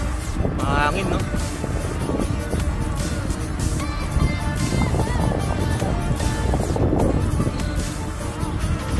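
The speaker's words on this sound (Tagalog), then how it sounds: "Mahangin, no?" Heavy wind buffets the microphone on a casual bike ride, a constant loud roaring rush that fills the whole stretch, with people talking underneath.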